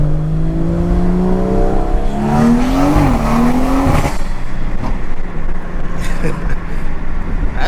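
A BMW 340i engine revs up, its pitch climbing as it accelerates hard, then drops away into a rougher, quieter rumble of passing traffic.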